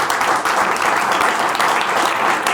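A studio audience at a French talk show breaks into continuous, dense clapping that holds at full strength throughout, loud and close with no voices over it.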